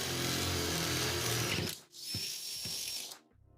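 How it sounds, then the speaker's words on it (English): A power drill bores through fiberboard and drywall into the stud behind, a loud steady whine for nearly two seconds, then a few short bursts and a second sustained run before stopping. "now I'm going to drill the stud that's just behind."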